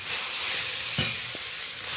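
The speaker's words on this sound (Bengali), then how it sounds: "এই পর্যায়ে আমি গ্রেট করা আলুটা তুলে দিলাম" Grated raw potato hits hot mustard oil with whole cumin in a pan, giving a steady close sizzle with a brief stirring scrape partway through.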